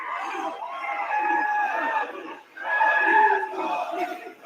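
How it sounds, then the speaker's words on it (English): A wrestling arena crowd cheers and roars in two loud, sustained waves of massed voices, with a short dip between them. "Crowd giving her the applause that she demands."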